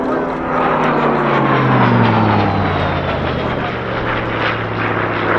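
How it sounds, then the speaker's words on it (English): A Hawker piston-engine aircraft, among the fastest ever built, passes at an airshow at RAF Cosford, its loud propeller drone falling steadily in pitch as it flies by and filling the whole clip. "It's one of the fastest piston-engine aircraft ever built."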